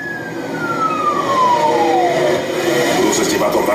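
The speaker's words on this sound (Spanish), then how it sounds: "¡Llama a una ambulancia!" An ambulance siren wails loud and close with a steady falling tone sweep, continuous over the whole stretch with traffic noise underneath.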